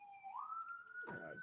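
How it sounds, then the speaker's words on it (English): A siren holds a steady wailing tone that rises partway through, with a lower rumbling burst near the end, loud and continuous without any speech. "It's a siren."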